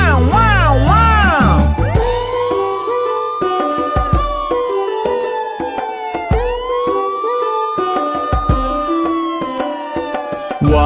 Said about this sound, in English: Let's call an ambulance.